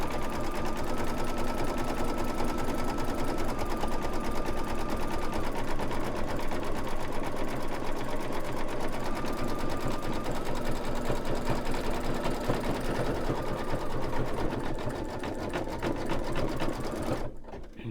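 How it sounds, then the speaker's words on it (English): An embroidery machine sews satin stitches at the base of a pumpkin stem in the hoop, a fast steady mechanical whir and needle rattle running loud and close until it stops at the end. "So it's just going to do some satin stitches down at the base of the stem."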